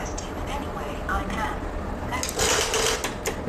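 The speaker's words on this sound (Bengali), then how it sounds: "এই যে মেশিনে আমি মেশিনে আমি একবার চালাইলাম" A Juki DDL 8000A industrial sewing machine runs briefly with a fast mechanical chatter, with a person talking over it throughout.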